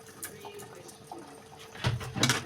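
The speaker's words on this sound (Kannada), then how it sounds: "ನಮ್ಮ ಮನೆಗೆ ಎಷ್ಟು ಬೇಕೋ ಅಷ್ಟು ನಾನು ನೀರು ಹಾಕ್ತಾಯಿದ್ದೀನಿ" Water is poured into a cooking pot holding ground tomato and salt. The pour comes as a brief, louder gush of splashing near the end, after quieter kitchen clatter.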